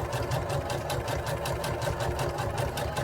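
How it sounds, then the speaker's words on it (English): Sewing machine running steadily as it stitches down the side of a zipper tape with dark gray thread for a hoodie, a continuous close mechanical whir with rapid rhythmic needle pulses and no talking. "now I'm going to sew up the side of the tape"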